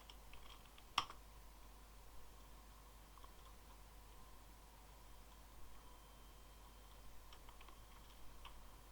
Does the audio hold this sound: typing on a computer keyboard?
yes